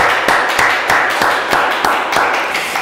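A church congregation at a Friday evening prayer service in Singapore applauds with steady, dense rhythmic clapping, loud and continuous throughout.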